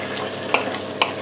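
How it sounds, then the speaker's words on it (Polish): Chicken and spinach filling being stirred together in a pan, with a steady low sizzle and two brief, sharp scrapes of a utensil against the pan. "i wszystko razem mieszamy"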